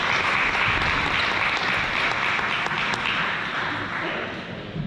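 An audience at a senior awards night claps in steady, dense applause that holds throughout before tapering slightly at the end.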